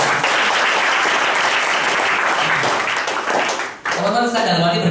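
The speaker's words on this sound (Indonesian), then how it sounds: "Tepuk tangan buat orang" An audience applauds at a gathering, a dense and steady burst of clapping that carries on for several seconds. It cuts off abruptly near the end, and a voice begins speaking right after.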